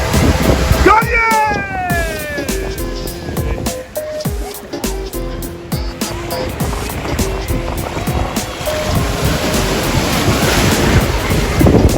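Ocean waves breaking on a Cornwall beach while people paddleboard, a loud, continuous rush of surf buffeted by wind on the microphone, with a voice and some whistle-like tones early on.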